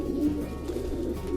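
Young domestic pigeons coo softly in a loft compartment, a few low throaty coos close by over a quiet room hum, with no talk.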